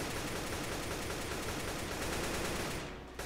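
AK rifle in Roblox Counter Strike firing a dense, continuous burst that fills the whole stretch at steady loudness and cuts off at the end.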